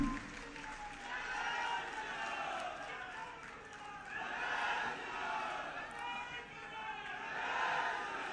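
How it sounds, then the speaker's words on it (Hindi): An audience claps and cheers at a public gathering in Lucknow, a dense, steady wash of applause that swells and dips across the whole stretch, with a voice faintly underneath. "आपसे कहूंगा तालियां बजाकर कीजिए"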